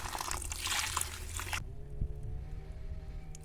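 Cold tap water, nearly a litre, poured onto 750 grams of quicklime while mixing Bordeaux mixture, as a close, hissy rush of liquid for about a second and a half, then quiet with a faint knock.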